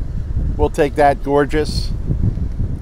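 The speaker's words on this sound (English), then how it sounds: "It is super windy" Strong wind buffets the microphone outdoors at a hot, sunny boondocking campsite, a low, gusty rumble running throughout beneath a person speaking briefly.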